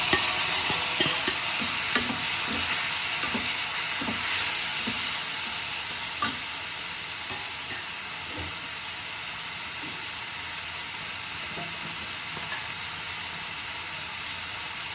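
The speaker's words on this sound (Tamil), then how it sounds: "இப்போ தக்காளி போடுறேன்." Tomatoes fry with a steady, close sizzle in a pan, with a dense run of spatula scrapes and taps in the first half that thins out later. No one talks.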